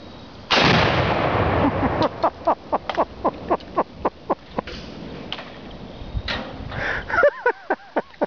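Dragon's breath shotgun round fired at an exploding target outdoors, one big roaring blast with a long rushing tail, then a run of sharp rhythmic cracks and pops and a brief voice at the end.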